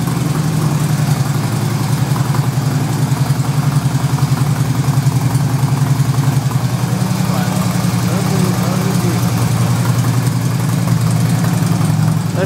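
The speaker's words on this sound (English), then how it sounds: "Running like a true Harley." A 2008 Harley-Davidson Electra Glide Standard (FLHT) motorcycle idles steadily after its first start of the year, a close, loud, even low-pitched engine pulse throughout with no talk.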